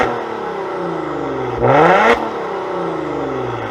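A 2021 Maserati Levante S Granlusso engine in sport mode with exhaust valves open idles with a throaty burble, then blips into one sharp, loud rev that rises and falls quickly before settling back to idle.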